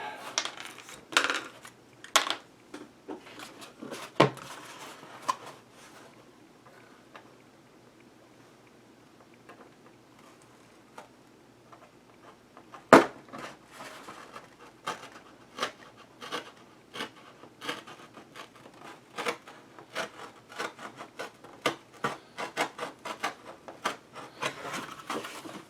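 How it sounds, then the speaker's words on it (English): Circles of material for an EDC Faraday cage are cut by hand, with quiet irregular snips, rubs and clicks in bursts separated by near-silent pauses, close up. "Now I'm going to cut those out."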